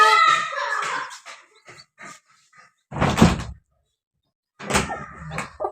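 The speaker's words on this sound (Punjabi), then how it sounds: "ਦਰਵਾਜ਼ਾ ਲਾ ਦੇ ਤੂੰ ਬਸ" A door is shut indoors in two short, loud bursts separated by silence, following some quieter household noises.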